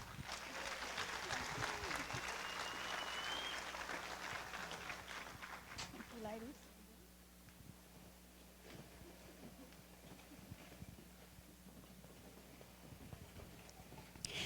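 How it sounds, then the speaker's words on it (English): Audience applause rises at a strawberry festival queen pageant, a strong burst of clapping for several seconds that drops sharply to scattered faint claps and room murmur. "Let's give them one more round of applause."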